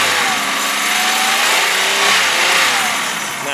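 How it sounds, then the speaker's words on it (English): Engine of a 2003 Pontiac Grand Prix SE revs hard toward its rev limit. A loud, sustained mechanical roar carries rattling valve train noise and rises and falls slightly. "there is a fair amount of valve train noise"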